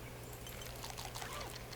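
In the survival game Death Nomad, drinking water is collected and used with a brief, close, steady pouring trickle that has faint bubbly splashes over a low hum.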